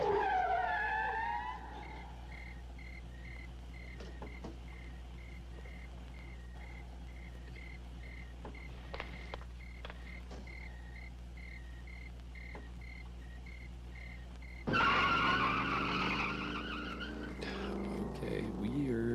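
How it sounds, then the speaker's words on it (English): A car peels out in a 1971 horror crime film, its tires squealing briefly at the start and again in a louder screech later, with a quieter engine stretch in between and people talking faintly nearby. "That car peeled out of there."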